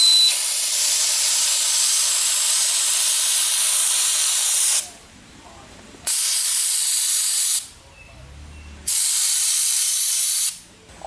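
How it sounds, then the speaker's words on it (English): A sandblaster firing play sand as media roars in a loud, steady hiss once its valve is opened, cutting off and restarting in three long bursts with brief quiet gaps between. "Now right now I've got the valve closed and I'm going to open it up a little bit."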